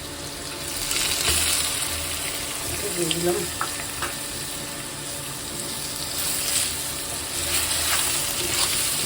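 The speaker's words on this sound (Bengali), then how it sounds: "পেঁয়াজটা ভাজা হয়ে গেছে" Onions with spices sizzle steadily in a hot pan, a loud continuous frying hiss filling the whole stretch with occasional stirring knocks, while a voice says a few words under it.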